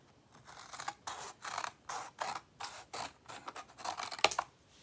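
Scissors snipping through a sheet of cardboard in steady, rhythmic cuts, about nine close, crisp crunching strokes in a row with no voices.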